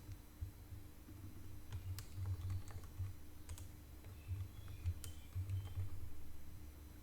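Soft, quick keystrokes tap on a computer keyboard in small irregular bursts, faint against a low steady hum with no talk.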